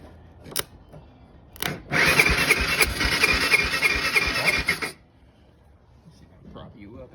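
A Honda 300 Fourtrax ATV engine, primed with starter fluid, catches after a couple of clicks and runs in a rough, loud burst for about three seconds before dying. Someone talks nearby.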